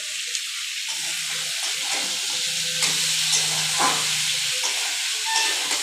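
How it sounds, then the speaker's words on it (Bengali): Milk heats to a boil in a pot, producing a steady hiss with soft bubbling and occasional brief clinks, close by and moderately loud. "এই দেখো আমার দুধ জাল হচ্ছে।"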